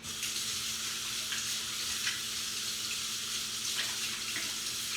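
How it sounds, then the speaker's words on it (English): Hands being washed under a running kitchen tap, a continuous close hiss of flowing water with faint splashes throughout. "Let me just wash my hands."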